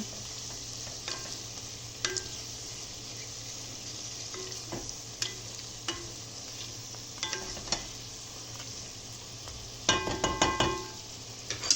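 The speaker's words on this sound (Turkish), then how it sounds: "bir yemek kaşığı toz şeker ekliyoruz. Güzelce karıştırıyoruz tekrar toz şekerimizi." A spoon stirs green beans with sugar in a pot over a soft steady sizzle, with scattered light scraping clicks and a denser burst of clinks near the end.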